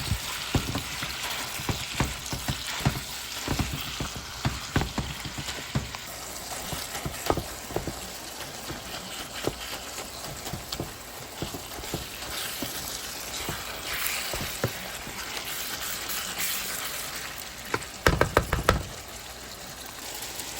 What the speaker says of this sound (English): let's go ahead and get this mixed up in here and get this meat browned off